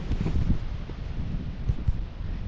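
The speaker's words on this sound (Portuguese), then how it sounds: "Tá vindo o vento pra cá." Gusty wind buffets outdoors ahead of an approaching storm on a motorcycle trip, a low, rumbling rush with soft rustling that swells and eases over a few seconds, and no voices.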